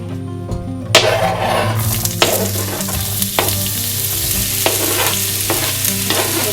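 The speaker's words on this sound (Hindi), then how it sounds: "आधा कप ऑयल डालने के बाद जो हमने प्याज बारीक काट के रखे हैं, हम वो डालेंगे।" Finely chopped onions tipped into half a cup of hot oil for a dum bharay kabab karahi, bursting into a loud, steady sizzle with sharp scraping stirs and clinks against the pan throughout.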